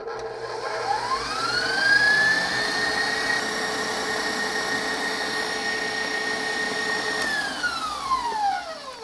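An electric mixer on high whips macaron meringue made with brown sugar, its motor whine rising in pitch, holding a steady high hum for several seconds, then winding down, close and fairly loud with no talk.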